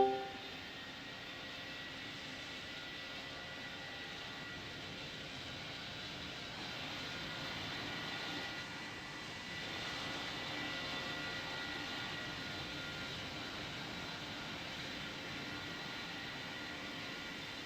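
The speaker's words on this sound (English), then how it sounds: "you're cleared for takeoff runway 13" An airliner rolls for takeoff in the Roblox game Pilot Training Flight Simulator, a steady synthetic engine drone with a slight swell partway through, constant and moderately quiet with no voices.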